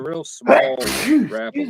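A man sneezes once loudly during a live night fishing tournament broadcast, with talk before and after.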